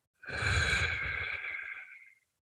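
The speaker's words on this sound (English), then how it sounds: "breathing out slowly." A long, slow breath out, airy and steady, close to the microphone, gradually fading to silence.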